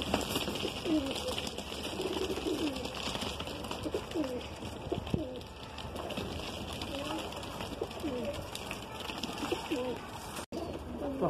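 Madrasi pigeons coo softly in repeated low, rolling calls against a steady background hum, with some talking mixed in.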